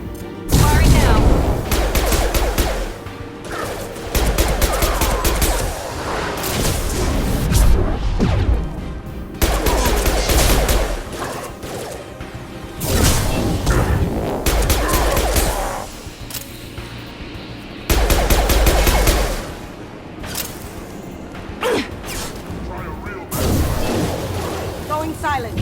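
Bursts of gunfire from a Mass Effect 2 firefight ring out in several loud clusters, rapid automatic volleys and booming impacts separated by short lulls, with game voices heard between the shots.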